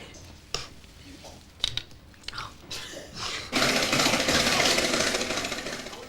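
A whisk beats air into liquid egg white: a few clicks and knocks come first, then a loud, continuous buzzing whir fills the second half and fades slightly toward the end.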